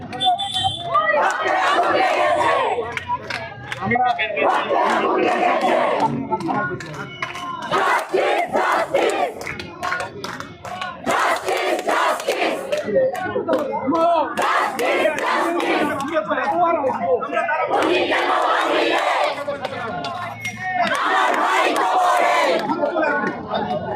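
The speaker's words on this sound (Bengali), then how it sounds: "আমাদের সামনে ওরা কিছু শিক্ষকরা স্লোগান দিচ্ছে।" Teachers chanting slogans at a Quota Movement protest on the High Court premises, a loud crowd shouting in rhythmic call-and-response bursts that rise and pause repeatedly, with voices close and filling the scene.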